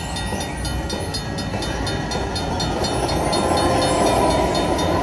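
A train feature from the Luxury Line Cash Express 50 Lions slot machine plays as a steady, loud rail rumble with a regular clickety-clack rhythm of wheels running continuously.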